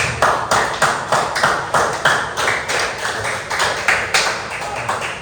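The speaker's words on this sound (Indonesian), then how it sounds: "Ya, tepuk tangan untuk semuanya" Students in a classroom clap for everyone in a loud, regular rhythm, with quick groups of hand claps repeating evenly for about five seconds and no voices.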